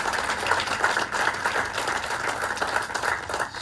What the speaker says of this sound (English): let's give a round of applause to our first responders here